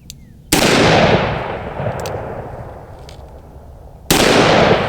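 A Smith & Wesson 460 XVR revolver firing 454 Casull rounds outdoors: two very loud, sharp gunshots about three and a half seconds apart, each followed by a long rolling echo that decays slowly.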